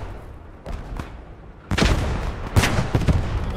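Mortar shells landing in the WWII shooter Squad 44 during a 1940 French armoured assault on the Maginot Line: faint distant thuds first, then two loud, heavy booms with rumbling aftermath close by.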